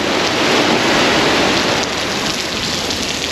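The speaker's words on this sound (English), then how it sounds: "It comes through in these like crazy squalls of like wind and shooting rain for like 15 minutes" Heavy rain from a tropical squall hammers down near Cairns, heard from shelter under a jetty while fishing, a loud, dense, continuous roar of rain and wind with no speech.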